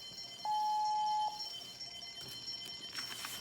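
A single steady electronic alarm tone sounds for about a second over a noisy background hiss, followed by faint rumbling.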